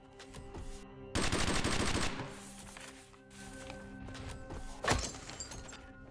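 Turrets in the sci-fi video game Erra: Exordium fire a sustained, loud burst of rapid automatic shots, joined by scattered thuds and impacts before and after, with no talking.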